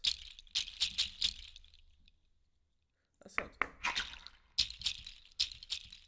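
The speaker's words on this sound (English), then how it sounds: "Goat nail hit." Dry, bright goat nail rattle hits from a percussion sample library shake in short clusters with a quiet gap in the middle, close and crisp.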